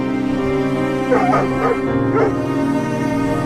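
A cartoon dog whines and whimpers in a few drawn-out, rising-and-falling cries, mixed with soft yips, over a steady musical background.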